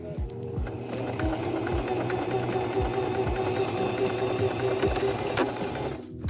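A sewing machine stitches down a sock cuff, its motor whirring steadily with a rapid rhythmic needle clatter, close and continuous before stopping at the end.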